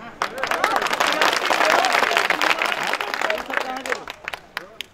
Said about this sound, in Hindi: हिम्मत है तो इस पे ताली बजाइए।